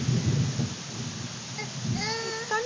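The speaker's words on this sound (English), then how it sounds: "Is that thunder? That's fine. It's thunder." Thunder rumbles low and long through steady rain falling on surfaces, the rain hiss continuing throughout, with a voice briefly sounding near the end.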